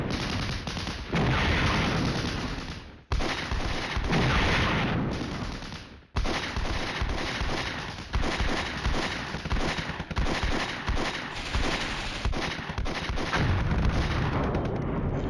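Artillery barrages in the wargame Flashpoint Campaigns: Red Storm, a dense roll of loud repeated booms and crackling gunfire running almost continuously, broken by brief sharp pauses.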